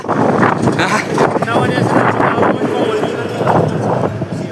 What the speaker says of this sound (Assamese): বতাহ বহুত জোৰত দি আছে